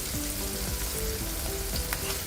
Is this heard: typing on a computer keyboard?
no